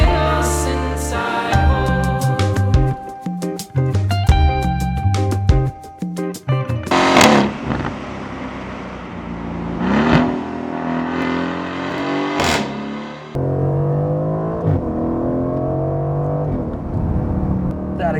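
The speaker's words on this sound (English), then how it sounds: "That exhaust note is just a thing of beauty. It sounds so good." An Aston Martin V8 Vantage accelerates, its exhaust note rising in repeated revving sweeps through the gears, loud and close, after a stretch of music that partly overlaps the engine.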